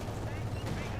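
Sustained heavy gunfire rattles in a Company of Heroes 2 battle, a dense continuous burst of machine-gun and cannon fire with no separate shots, filling the short moment at a steady loudness.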